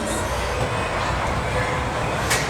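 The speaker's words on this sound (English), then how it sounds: "the Dragon Claw train game, mostly a humongous train game machine" Electronic sounds from a large Dragon Claw train-themed arcade game machine at a family entertainment center in East Hanover, New Jersey, a steady loud wash of rumbling noise mixed with arcade din, with a brief brighter burst near the end.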